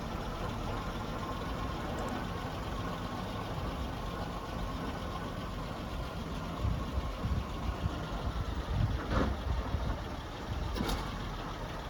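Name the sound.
1926 International fire engine driving away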